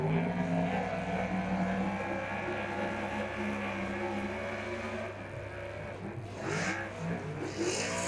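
Superstock race car engine droning steadily at a distance as the driver feathers the throttle through the turns, with slight rises and dips in pitch and a commentator's voice over the top.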